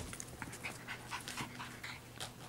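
Cockapoo puppies panting quietly nearby, a soft rapid breathy rhythm with faint whimpers and no talking.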